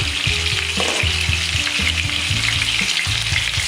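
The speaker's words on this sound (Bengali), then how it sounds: "প্রায় পটলটা আমার ভাজা হয়ে এসছে।" Pointed gourd (potol) frying in a pan for a Bengali doi potol dish, a steady close sizzle with repeated low thumps as pieces are turned, no voices.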